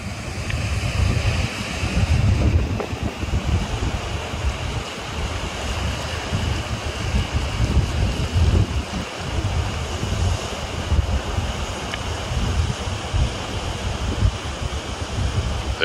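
Surf rolls steadily onto a wide, open beach at Fernando de Noronha, Brazil, a continuous wash of breaking waves with wind buffeting the microphone and no voices.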